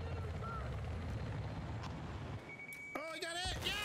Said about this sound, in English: A transport heli is heading toward our spawn.